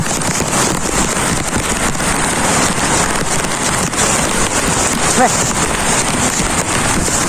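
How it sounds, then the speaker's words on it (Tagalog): Dense, steady hiss of heavy rain pouring down, unbroken for the whole stretch, with faint talking mixed underneath. "Lakas ng ulan, par."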